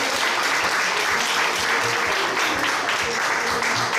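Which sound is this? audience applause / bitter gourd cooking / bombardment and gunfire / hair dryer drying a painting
audience applause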